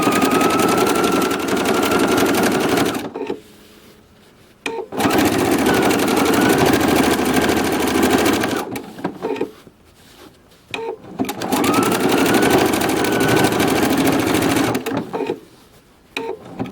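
A sewing machine stitches quilt sashing in three long, loud bursts of rapid mechanical chatter, with short quiet pauses between runs and no talking.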